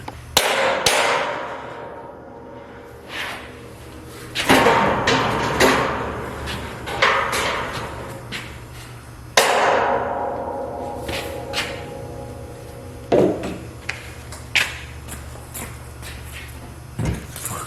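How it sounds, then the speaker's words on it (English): Sharp hammer strikes on tightly wedged parts of a John Deere 410 zero-turn mower land irregularly, several loud knocks with pauses between, close by in a resonant room. "I need to get a hammer. These are wedge tight."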